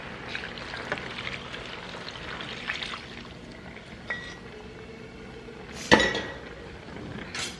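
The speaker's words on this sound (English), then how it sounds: "This is just the excess water that we took out from the beginning and just pour it back in." Excess cooking water is poured back into a pot of cabrito, a soft trickle and stream with occasional metallic clinks of the pot and utensils, close and fairly quiet, with no talking.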